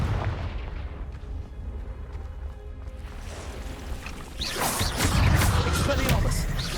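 A Confringo explosive spell going off in Hogwarts Legacy, a heavy booming blast that swells in the second half of the clip over a low rumbling background, loud and fairly close.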